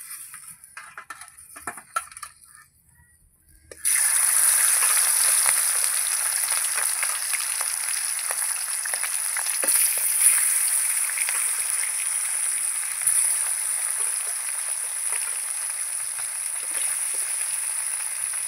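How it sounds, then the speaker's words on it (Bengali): Pieces of rohu fish, starting with the head, are dropped into hot oil in a home kitchen. A quiet start gives way to a sudden loud, steady sizzle and crackle that continues unbroken to the end. "তেল গরম হয়ে গেছে, এবার আমি মাছ দিয়ে দেবো।"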